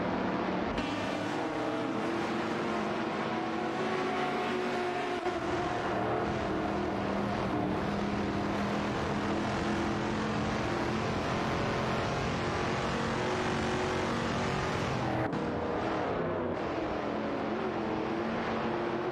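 Simulated race cars in a racing video game, including a Holden Monaro and a Shelby, drone continuously with layered engine tones rising and falling, steady and loud throughout with no voices.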